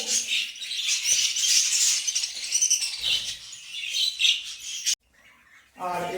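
Pet birds in a home collection kept for sale chirp and tweet in dense, overlapping bright calls almost throughout, with a brief near-silent gap before chirping resumes.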